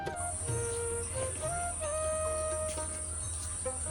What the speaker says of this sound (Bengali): সকাল দুপুর বিকাল সব সময়ই ঝিঝি পোকার ডাক শোনা যায়